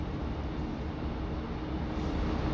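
A Northern class 156 diesel train runs toward Walkden: a steady interior rumble of wheels and engine, constant and moderately loud throughout, with no voices.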